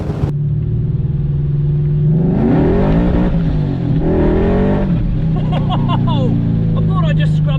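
Tuned V8 BMW M5 launching hard in a drag race, the engine rumbling loud and close as it revs and pulls, with tyres spinning and scrabbling through the run before the engine note settles near the end.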